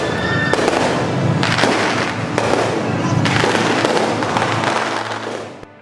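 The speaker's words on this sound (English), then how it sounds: "The students there celebrated their graduation with a concert and fireworks." Fireworks at a graduation celebration in Red Square, Moscow, crackle and boom in dense overlapping bursts, loud and continuous, fading out at the end.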